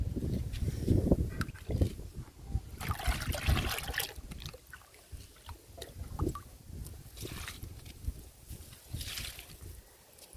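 Liquid fertiliser trickles and splashes from a container onto flowering plants in a home garden, starting with a gomphrena, in a steady, close dribbling pour with intermittent sloshing and no talk.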